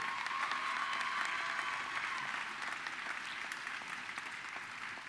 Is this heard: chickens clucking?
no